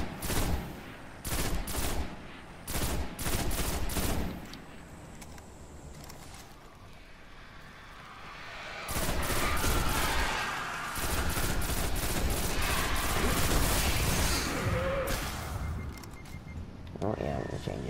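Gunfire in the Destiny video game during the Crota's End raid, several bursts of rapid shots in clusters with quieter gaps between them and a rumbling background, and a voice talking over it at times.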